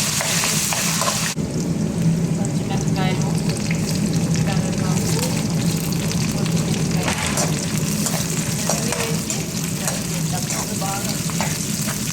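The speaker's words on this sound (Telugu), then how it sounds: "ఉల్లిగడ్డలు అయితే ఇట్లా బాగా వేయించుకున్న తర్వాత" Onions sizzle and crackle steadily in a hot pan, loud and close, with occasional stirring scrapes throughout.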